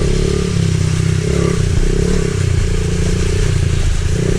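A pit bike engine drones loud and close while riding, a rough steady motor hum with rattling clatter and no clear revving changes.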